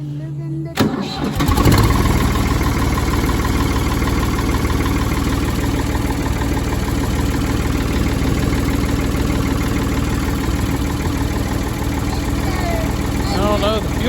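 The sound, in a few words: Ford 4610 tractor engine idling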